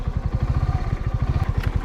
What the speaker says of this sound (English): that's why I rode a motorcycle instead of trying to drive down here